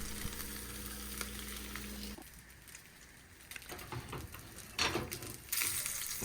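Salmon fries skin side down in a pan, giving a steady, close sizzle and crackle that dips partway through, then picks up with brief louder spatters near the end.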